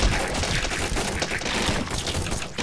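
Gunfire in the zombie survival video game Run!ZombieFood! rattles in a dense, rapid barrage, loud and continuous for a few seconds with no talking over it.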